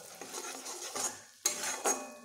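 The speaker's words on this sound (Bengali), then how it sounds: "মশলার সঙ্গে মুগ ডালগুলো যেন আমার একটু ভাজা হয়" Washed mung dal fries with spices in a pan, a soft sizzle under repeated scraping and clinking stir strokes, several sharp utensil scrapes standing out near the end, with no talk.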